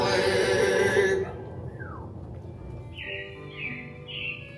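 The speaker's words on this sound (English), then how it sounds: "It looks like the Robins are getting ready to celebrate Valentine's Day today." Robins chirp in an animatronic show at a Disney theme park attraction, thin rising tweets and a short repeated trill following loud music that fades out.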